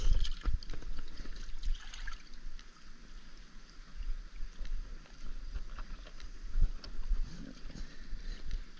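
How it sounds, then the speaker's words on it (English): Water sloshes and splashes steadily in a swimming pool as an inner tube is pushed up and down, making continuous choppy lapping and small splashes at moderate volume throughout. "I'm taking the inner tube and moving it up and down"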